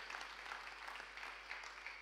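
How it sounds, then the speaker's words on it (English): A church congregation clapping together, steady dense applause at a moderate distance with no voices over it. "clap hands for Jesus"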